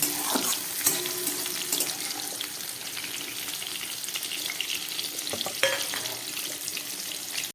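Tomatoes frying in hot oil in a pan while cooking a Bengali dried-fish (shutki) dish, a continuous close sizzle with scattered crackles and a few clinks, no talking.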